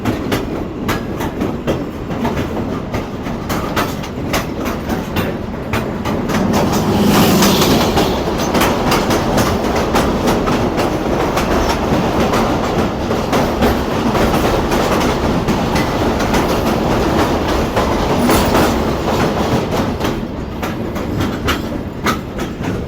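The Karakoram Express, a Pakistani passenger train running between Karachi and Lahore, rolls loudly along the rails with a continuous rumble and rhythmic clickety-clack of wheels over joints, heard close from on board.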